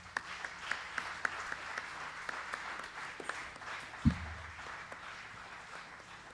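A church congregation applauds in a steady, dense wash of clapping, with a few sharper claps and a brief low thump near the end, at moderate distance.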